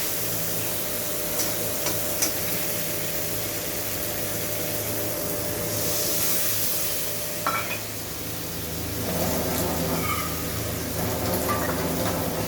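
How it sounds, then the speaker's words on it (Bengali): Water poured into fried spice masala in a pan while making hilsa fish curry, producing a steady hiss and sizzle with faint stirring and clinks, moderately close. "মশলাটা আমার ভাজা হয়ে গেছে, এখন এর মধ্যে আমি জল দিয়ে দেবো।"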